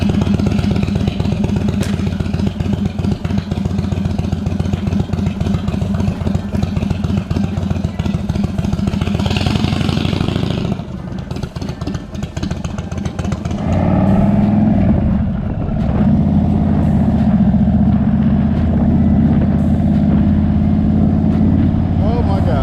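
A cheap Indian Chief motorcycle taken on its first daylight ride around the block rumbles loud and close, dipping briefly midway before settling into a lower, steady engine drone.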